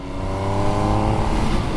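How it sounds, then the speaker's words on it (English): A 2021 MV Agusta Dragster motorcycle engine revs steadily and loudly up close, its induction roar building slightly in a continuous, harmonic-rich drone with no speech. "as soon as you ride it, it's got an amazing induction roar"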